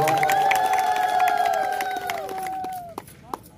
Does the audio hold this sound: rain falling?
no